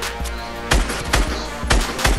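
Rapid gunfire in the video game Fortnite during a duo Battle Royale fight, several loud overlapping bursts of shots in quick succession, with no talk during the shooting.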